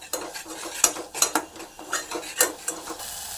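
A spoon scrapes and clinks against a pan in short irregular bursts as food is stirred and fried. A faint sizzle sits underneath, and the whole thing sounds fairly quiet.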